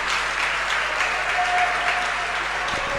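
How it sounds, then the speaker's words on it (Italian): Steady applause fills an indoor arena as two women's basketball teams, Energit Cagliari and Umana Venezia Mestre, walk onto the court, a dense crowd clapping evenly throughout. "Gli applausi a sottolineare l'ingresso in campo delle due squadre"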